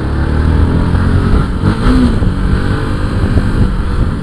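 A motorcycle engine revs steadily and loudly up close while filtering through traffic, with a throaty low rumble and a brief rise in pitch midway.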